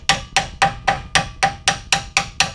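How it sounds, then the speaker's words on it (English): A hammer lightly taps a brake pad into place on a 2013 Kia Sorento, about ten sharp, evenly spaced metallic knocks, close and clear with nothing else heard. "lightly tapped it with a hammer"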